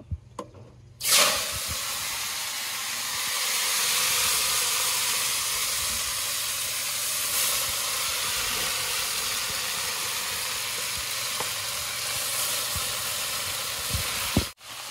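Leafy greens dropped into hot oil left from frying fish in a village kitchen, giving a sudden loud sizzle that settles into a steady, close hissing roar lasting until a sharp knock near the end.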